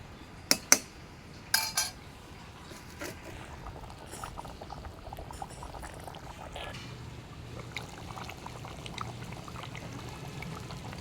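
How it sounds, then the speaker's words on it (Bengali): Water poured into a pot of chicken and potato curry after the spices are fried, with a few sharp clinks of utensils at the start followed by a soft, steady pour and gentle bubbling, fairly quiet. "মশলা কষানো শেষ, এখন পানি দিয়ে দিব।"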